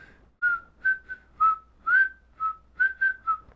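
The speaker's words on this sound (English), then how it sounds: "the way like that character whistles that song is incredibly terrifying" A lone whistler carries a tune heard in Kill Bill, as a slow series of about nine clear, sliding notes with short pauses, close and alone.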